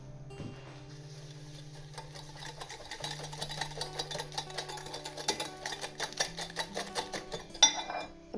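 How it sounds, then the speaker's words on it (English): Three eggs are whisked for a batter, a whisk clicking rapidly against the bowl in a quickening, irregular rattle over a faint low hum. "So I'll just whisk my 3 eggs."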